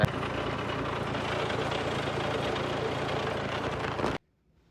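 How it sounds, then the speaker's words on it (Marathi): A tractor engine, working to remove slurry, runs with a steady, loud rumble, then cuts off abruptly near the end, leaving near silence. "आता ही ट्रॅक्टरने स्लरी काढायचं काम चाललं आहे"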